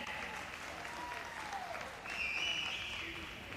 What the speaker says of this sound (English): get your clapping gear ready again